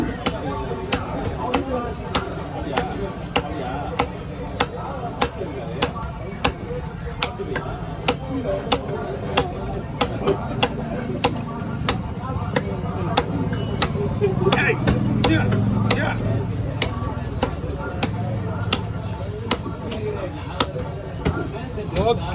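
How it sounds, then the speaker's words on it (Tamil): Regular sharp knife chops cut through a big diamond trevally fish at a Kasimedu fish stall, struck in a steady rhythm close by, with talk and market bustle underneath. "கமாண்டி மீன் வெட்டினேன்"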